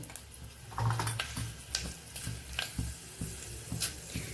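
Fenugreek seeds dropped into hot oil for a winter kadhi, giving a soft, crackling sizzle with a few sharp pops and spatters, close and fairly quiet, with no talking.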